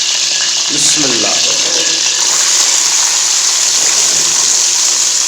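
Onions hit hot ghee with a loud, close, continuous sizzle and hiss, with a brief stirring scrape early on.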